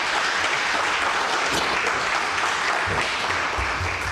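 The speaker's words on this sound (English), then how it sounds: "Can we give him a round of applause once again?" Sustained applause from the audience at a public lecture on democracy in the SADC region, thanking the professor with steady, even, dense clapping that holds at one level throughout.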